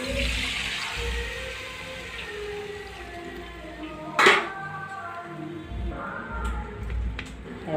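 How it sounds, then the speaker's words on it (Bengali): Water poured into a hot frying pan of spiced cabbage curry gives a steady broadband hiss and sizzle across the whole stretch, with a brief sharp clatter partway through; no one speaks. "এবার আমি জল দিয়ে দেবো।"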